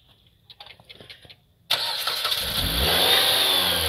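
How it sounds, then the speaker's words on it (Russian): A 2008 Dodge Caliber's 2.0-litre engine cranks and fires up abruptly after quiet clicking and handling noises, then settles into a loud, steady run close by. "Запуск двигателя."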